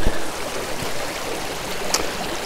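A small stream trickles nearby in a soft, continuous wash of water, with a few faint knocks and no talking.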